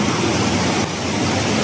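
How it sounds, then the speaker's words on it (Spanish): A waterfall on a river inside a cave in Chiapas gives a dense, steady roar of rushing water, loud and continuous, with no voices. "vean esa cascada"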